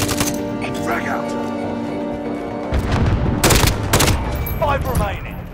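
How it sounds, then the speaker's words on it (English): Frag grenade blast and gunfire in the video game Warzone, with heavy booming bursts and rattling shots in the middle of the clip over a steady game background, with speech in the mix. "Frag out."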